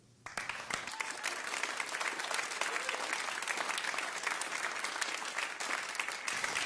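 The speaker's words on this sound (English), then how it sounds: "And of course, we need to give a round of applause for Peggy Fournier." An audience applauds loudly and steadily at a live studio performance, the clapping starting abruptly and continuing as a dense, sustained wash to the end with no break.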